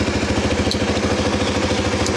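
A Suzuki GSX-R125 motorcycle under rebuild idles close by, its small single-cylinder engine putting out a loud, even, rapid putter with a light mechanical clatter throughout.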